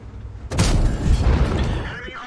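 A single heavy boom from a tank's ammo rack detonating after a side hit in the World of Tanks game, a sudden loud burst that decays into a rumbling tail, with a voice talking underneath.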